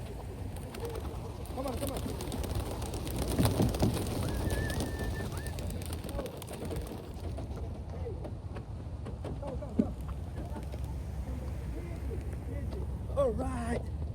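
Racing pigeons coo at their loft after a 20-mile early-morning toss, their soft calls mixing with steady outdoor background noise while people talk nearby throughout.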